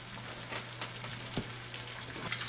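Egg frying in a Cuisinart stainless steel pan: a soft, steady sizzle with fine crackling pops and a constant low hum underneath.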